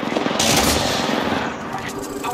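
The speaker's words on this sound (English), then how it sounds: "I am taking fire." Loud, close automatic gunfire in the video game Apex Legends, a fast continuous burst that tapers off slightly toward the end.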